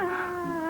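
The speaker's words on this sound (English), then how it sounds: "Why such a fuss over a few cats?" Cats meow and caterwaul in a garden, one drawn-out, wavering yowl held close and loud for under a second.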